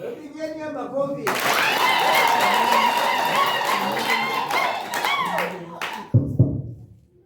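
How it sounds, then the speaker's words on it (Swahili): Church audience at Keteroon church junction clapping together during a fundraising collection, a loud sustained burst of applause over several seconds with voices and music mixed in, fading out before a voice resumes. "Pigeni makofi."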